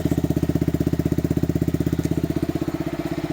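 A Yamaha R15 V3 motorcycle with an aftermarket silencer idles up close, a deep, loud, rapid thumping pulse that stays steady throughout, with no voices.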